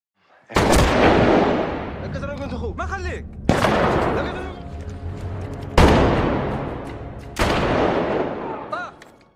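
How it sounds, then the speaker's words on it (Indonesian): Rifle gunshots ring out in the desert of Saudi Arabia, with four loud, sharp blasts spaced a couple of seconds apart, each trailing into a long rumbling echo, with a voice heard between them. "Namun tiba-tiba sebuah peluru bersarang di dada Edward, diikuti suara letusan senapan."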